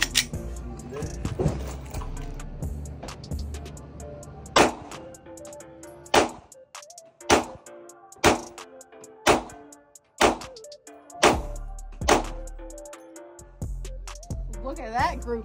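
Pistol shots from a Canik Mete MC9 at a shooting range ring out as a slow string of about ten sharp, loud reports spaced roughly a second apart, with a low background murmur.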